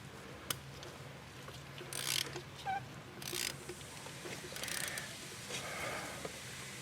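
A ratchet tightens a spark plug on a 2.0L Ford Edge, giving faint, close clicking bursts in short irregular runs with brief pauses between turns.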